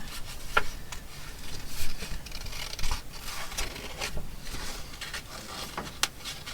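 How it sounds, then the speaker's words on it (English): Scissors snip out paper butterfly shapes up close, a series of short crisp cuts and soft paper rustling at an uneven pace, with no voices. "So we're going to just cut out these flutterbys."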